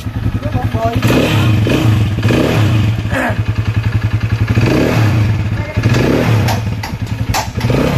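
A Honda TMX 125 motorcycle engine converted to 200cc idles with a rapid chugging pulse and revs up several times, loud and close, while people talk over it.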